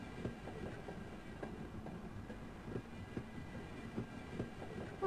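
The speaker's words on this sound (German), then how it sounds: "Jetzt ballern wir einfach hier runter mit unserem Zug" Train cars rolling along rails in the shooter game Half-Life: Opposing Force, a steady low rumble with soft periodic clacks and knocks throughout, moderately quiet and continuous with no talking.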